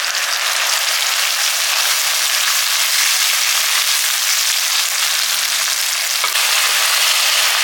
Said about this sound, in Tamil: பாருங்கள், தக்காளி நல்லா வதங்கிடுது.